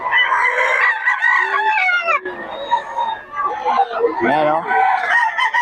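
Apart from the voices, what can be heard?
pumpkin sweater gamecock roosters crowing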